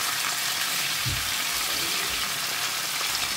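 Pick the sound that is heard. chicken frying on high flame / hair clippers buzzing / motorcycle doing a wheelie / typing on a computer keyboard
chicken frying on high flame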